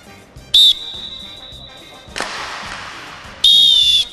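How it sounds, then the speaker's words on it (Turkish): A referee's whistle on a TV game show signals the start of a throwing race: a short shrill blast, then a long steady one, and after a burst of noise a final loud blast. "Düdüğümle atıyorsunuz."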